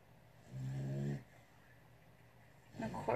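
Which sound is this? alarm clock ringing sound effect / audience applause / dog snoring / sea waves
dog snoring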